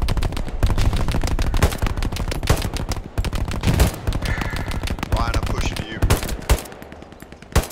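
Rapid machine gun bursts in Hell Let Loose, a WW2 shooter, rattle loudly in repeated strings with scattered single shots, close and dense across the whole stretch.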